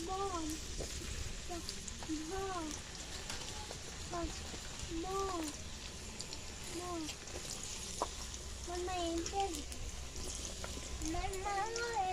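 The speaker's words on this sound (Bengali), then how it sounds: "আলুগুলো ভেজে নেব।" Potatoes frying in a pan on a home stove, with a steady broadband sizzle running the whole time beneath a voice that keeps speaking over it.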